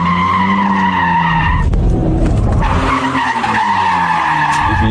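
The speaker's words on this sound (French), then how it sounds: "Un pilote tellement doué que les 4 roues motrices de la GT-R ne l'empêchent pas de drifter" A Nissan Skyline GT-R R34 Z-Tune with four-wheel drive drifts, its tires skidding in a long loud squeal with a wavering pitch, briefly broken by a rougher scrubbing burst before the screech resumes, close and alone.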